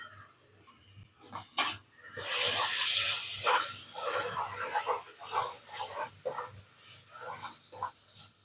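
Ginger garlic paste sizzling in a pan with onions and tomatoes, a loud, close frying hiss rising and falling over several seconds, with clinks of a spoon.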